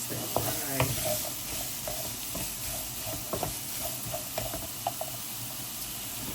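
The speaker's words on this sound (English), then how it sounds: "1 heaped cup of runner beans or green beans, depending on what you prefer to call it. Fry." Green beans fry in hot oil with a steady close sizzle, while a utensil stirs and taps against the pan in scattered light knocks, as in a Nigerian fried rice preparation.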